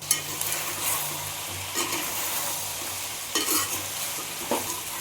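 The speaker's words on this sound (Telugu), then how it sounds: "ఇప్పుడు ఇదంతా బాగా కలుపుతున్నాం" A spatula stirs Telangana-style mutton head curry in a pan, scraping and sizzling steadily up close, with a few sharper scrapes standing out over the continuous frying hiss.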